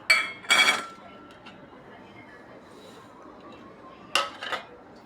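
A spoon mixes chopped green chillies, chilli powder and coriander into mashed potato in a bowl for aloo paratha filling: two short, fairly loud bursts of clinking and scraping separated by a long quiet stretch.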